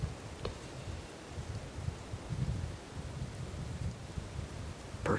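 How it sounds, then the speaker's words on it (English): Wind gusts buffet the microphone outdoors on a cold morning during a public-land deer hunt, a low rumbling roar that swells and eases steadily, with a couple of brief knocks. "pretty windy this morning."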